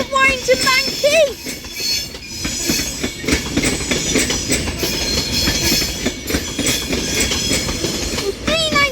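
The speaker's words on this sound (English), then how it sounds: "Avanti West Coast service to Edinburgh Waverley with a class 390 Pendolino" Avanti West Coast class 390 Pendolino electric train passing through Crewe station, a loud continuous rumble with clattering wheels and squealing, very close, with a brief rising whine near the start.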